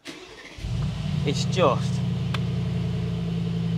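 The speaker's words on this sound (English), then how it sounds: "The sound of the exhaust, the engine, is just absolutely mega." A 2023 Mercedes-AMG G63 V8 Carbon Edition cranks and fires up, then settles into a steady, loud, rumbling idle that continues throughout, with a person briefly talking over it.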